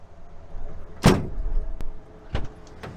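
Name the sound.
getting into a truck and riding off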